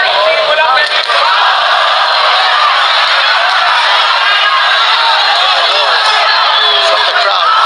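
A loud, dense roar from a boxing crowd cheering and yelling at a fight, a constant wash of voices that keeps going the whole time.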